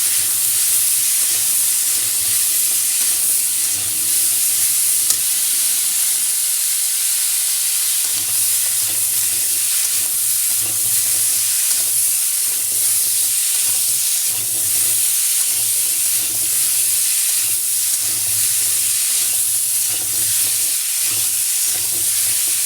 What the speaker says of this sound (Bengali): এবার একটু তেল দিয়ে দেবো। তারপরে ভালো করে একটু নাড়াচাড়া করবো।